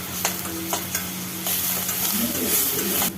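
A paste of ground green chili, ginger and garlic is stirred into onion frying in a pan, giving a close, steady sizzle broken by a few sharp spoon scrapes and then a rise in bubbling.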